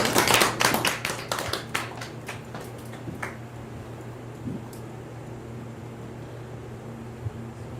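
A small audience at a live music show claps in a brief burst that thins out within about three seconds, then leaves a quiet room hum with an occasional stray sound.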